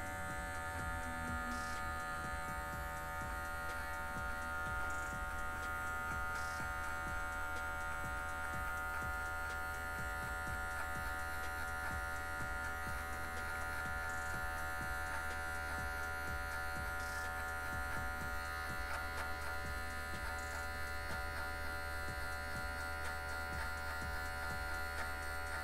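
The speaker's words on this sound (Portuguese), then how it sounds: "A gente vem usando só o ladinho da maquininha para tirar essa marcação" Electric hair clippers run steadily throughout while the blade edge trims a fade haircut, giving a continuous low buzzing hum that stays fairly quiet and even, with no talking over it.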